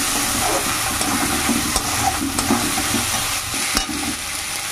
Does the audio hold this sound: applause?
no